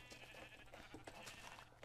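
Sheep bleating in a video game, several short wavering bleats over a steady low hum of game sound, close and fairly clear, with no talking.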